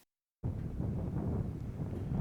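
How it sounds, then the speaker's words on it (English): After a moment of silence, strong desert wind rushes in with heavy gusts, a dense, low roar that buffets steadily, loud and continuous with no other sounds. "it has quite heavy gusts of wind"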